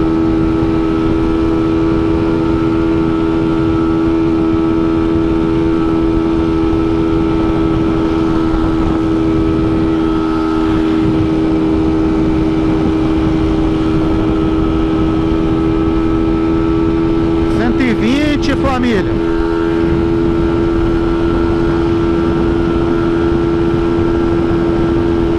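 A Honda Titan KS 125 motorcycle fitted with an NGK iridium spark plug cruises steadily in fifth gear, its engine drone loud and continuous from close by, with a brief burst of rattling near the end.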